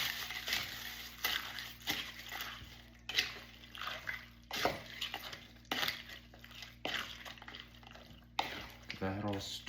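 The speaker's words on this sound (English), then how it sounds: "Then we're gonna stir this all up." Crockpot taco casserole being stirred with a utensil, wet scraping and clinks against the pot repeating steadily and close, with a brief voice near the end.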